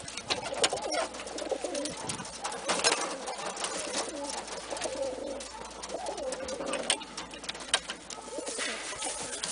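Ash red cock Birmingham Roller pigeon cooing in low repeated phrases up close, amid scattered wing flutters and other birds calling in the background.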